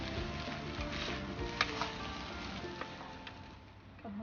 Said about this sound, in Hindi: अब अच्छे से हिलाइए ताकि वेजिटेबल सारी मिक्स हो जाए अच्छे से।